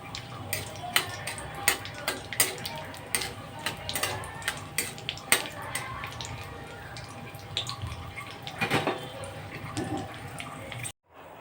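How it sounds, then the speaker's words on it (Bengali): Nigella seeds and dry and green chillies fry in hot oil, giving a continuous crackling sizzle dotted with small pops and the odd clink of a spoon against the pan, before the sound cuts off abruptly at the end. "ফোড়নটাকে একটু ভেজে নেব।"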